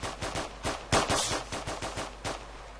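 Video game gunfire crackles in quick automatic bursts, a string of sharp close shots with short gaps between them, with no talking over it.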